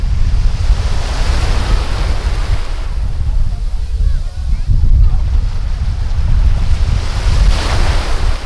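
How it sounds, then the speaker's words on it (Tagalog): Strong ocean waves crash and surge on a beach at Puerto Galera in the Philippines, with heavy continuous rumbling surf and wind noise buffeting the microphone throughout. "malakas yung wave"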